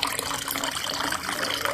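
Water poured steadily into a pot of rice before cooking, a continuous close splashing gush that runs without pause and with no talking.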